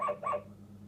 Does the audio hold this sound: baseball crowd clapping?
no